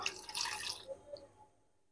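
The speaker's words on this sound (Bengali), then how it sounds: "এবার ডিমের মধ্যে ঠান্ডা জল দিয়ে দেবো" Cold water poured over boiled eggs in a home kitchen, a short splashy trickle in the first second followed by a few faint drips, quiet and close.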